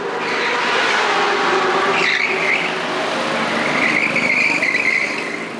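Go-karts racing at a motorsport arena, a loud constant buzz of small engines with sharp tire squeals swelling around the middle and again later, close to the track.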